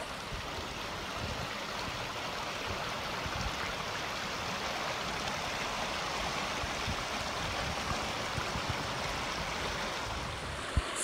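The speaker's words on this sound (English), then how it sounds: "Whitewater River, and it's usually not this full. It's flowing." The Whitewater River runs unusually full, giving a steady, broad rushing roar of flowing water that stays even and close throughout, with no voices.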